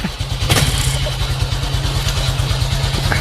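Honda Wave 125 LED motorcycle idling close by then pulling away, a steady low putter of engine pulses with a brief rev, running on S-Oil engine oil.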